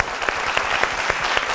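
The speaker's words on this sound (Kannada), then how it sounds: "ಒಂದು ಚಪ್ಪಾಳೆ ಕೊಡಬೇಕು." An audience at a singing reality show claps in a short burst of applause, dense and close, a few sharper individual claps standing out.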